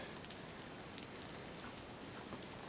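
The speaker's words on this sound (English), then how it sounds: "listening to the water drizzling off the mountain" Steady, soft hiss of rain and water drizzling off a mountainside escarpment, continuous and even, with faint droplet patter throughout and no voices.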